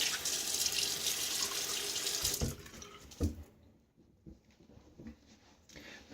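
Tap water runs steadily at close range while someone wets their face during a wet shave, then cuts off, leaving a few soft splashes and drips.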